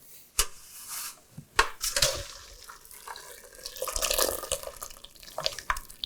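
Cooked pasta and peas poured from a pot into a bowl, water rushing and splashing steadily close by for several seconds with a few sharp clatters of the pot, no talking.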